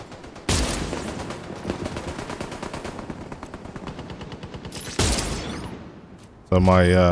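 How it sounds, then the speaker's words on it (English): A portable sniper turret in The Division 2 fires in a rapid, steady stream of shots, with louder blasts at the start and midway. Someone speaks briefly near the end. "portable sniper turret's just doing the business right now"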